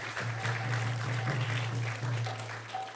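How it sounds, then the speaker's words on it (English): An audience applauds at a devotional gathering after a sung aarti, a diffuse clapping that runs continuously at moderate loudness over a low steady hum. "So let's give him a round of applause."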